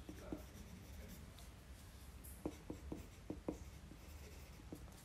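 A pen writing on paper beside a protractor-drawn pie chart, a faint, quiet scratching with a cluster of short, distinct strokes in the middle, alone without talk.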